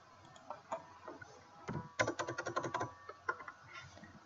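Rapid clicking keystrokes on a computer keyboard while editing a WordPress website, a short uneven burst of taps building to a dense flurry, close and quiet in a still room.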